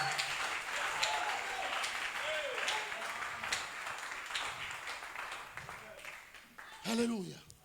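A church congregation claps and cheers in praise of Jesus, a sustained wash of applause running beneath a preacher's loud, continuous speech, swelling briefly near the end.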